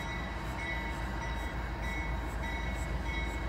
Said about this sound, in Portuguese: Mais outra locomotiva pra sair da Bitec. Ó, sem pintura.